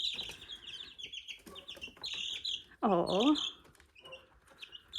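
Chickens on a hobby farm cluck and chirp close by in short, busy bursts, with one louder squawk midway and a person speaking briefly.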